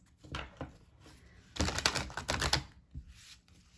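Tarot cards being shuffled by hand during a reading, a quiet run of crisp riffling and slapping bursts, loudest in a dense flurry mid-way, with no voices.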